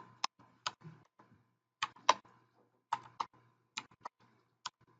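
Sparse keystrokes on a computer keyboard while someone types code, with irregular clusters of crisp, close clicks and quiet gaps in a still room.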